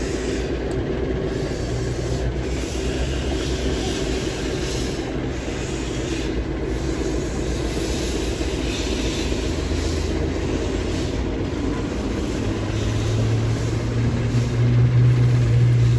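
At a Severn Valley Railway autumn steam gala, the steam locomotive Bahamas pulls out of the yard, giving a steady loud rumble of wheels and running gear with a low droning tone that rises toward the end.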